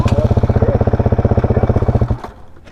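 A 2019 Honda CRF450L dual-sport motorcycle idles nearby with a rapid, even, thumping single-cylinder pulse, loud and close, before the engine cuts off abruptly near the end, leaving a brief clatter.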